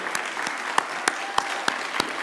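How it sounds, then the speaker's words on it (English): A small crowd at a Saturday event claps for volunteers, with sparse and uneven applause punctuated by a few sharp, distinct individual claps. "Let's give them all a round of applause for all the work that they put in."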